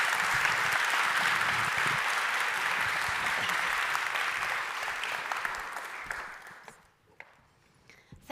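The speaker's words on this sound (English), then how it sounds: "I guess they deserve some applause" Conference audience at a digital summit's stage session applauds steadily, a dense sustained clapping that fades out near the end into quiet, with no voices over it.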